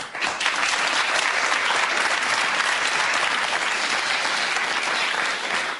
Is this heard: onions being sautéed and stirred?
no